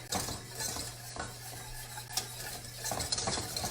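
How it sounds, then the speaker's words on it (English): A spoon stirs butterscotch sauce in a pan with soft, steady scraping and a faint sizzle, quiet and close, with no talk. "you're just going to stir that till it's nicely blended"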